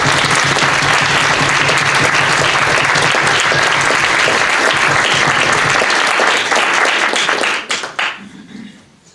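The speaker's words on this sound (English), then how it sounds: "So one last round of applause." A large audience at a Peace Corps and University of Michigan nomination and send-off party gives a dense, sustained round of applause for about seven seconds before the clapping thins and fades out.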